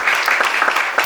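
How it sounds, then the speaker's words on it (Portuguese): A church congregation applauds loudly, with dense clapping from many hands sustained throughout a brief burst. "aplauda bem forte ao Senhor"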